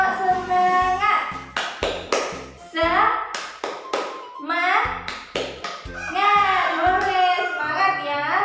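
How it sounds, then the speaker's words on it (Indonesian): A classroom group performs the 'tepuk semangat' clapping routine, with sharp rhythmic claps in quick patterned bursts alongside children's chanting voices throughout. "tepuk semangat"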